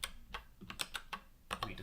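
Keys clack on a computer keyboard as a command is typed, a quick irregular run of crisp taps with short pauses between them, close and fairly quiet, with no voices.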